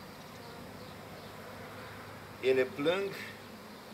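Secondary swarm of honeybees left without a queen, buzzing as a faint steady hum, with two short louder bursts of close buzzing and a brief spoken word near the end.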